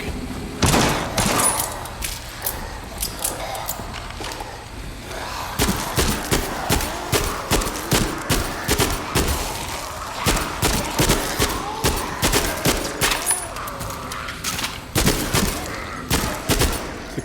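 Weapons fire in the Arizona Sunshine VR shooter, loud rapid bursts of gunshots in rhythmic volleys with a brief lull, then resuming close and heavy, with no talk over them.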